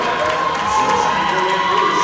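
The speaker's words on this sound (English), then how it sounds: "the crowd is yelling at her to call it" A roller derby crowd yells and cheers at a regional playoff bout, a loud, steady wall of voices with shrill shouts filling the arena from start to finish.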